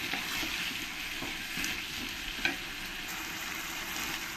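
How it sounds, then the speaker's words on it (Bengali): Cut potatoes tossed with spices in an oily pan give a soft continuous sizzle with light stirring scrapes and an occasional spoon tap, fairly quiet and close. "আলুটা দিয়ে ভালো করে আমি একবার নেড়ে দেবো"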